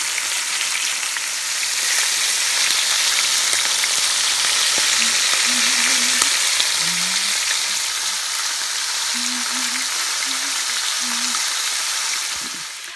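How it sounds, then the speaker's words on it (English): Wild rabbit pieces fry in oil in a pan, giving a steady, close, loud sizzle and crackle throughout, with a few faint tonal squeaks partway through. "we've let the rabbit cook for 4 to 5 minutes on each side"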